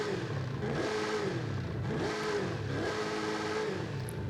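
A twin-turbo V8 truck in the racing game Forza Horizon 5 revs in repeated rising pulls, about three surges in a row over a steady low engine drone, with no speech.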